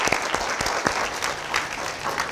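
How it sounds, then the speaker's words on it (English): An audience applauds after a studio talk on a community garden initiative, a brief steady patter of clapping with a few sharper individual claps standing out. "a round of applause"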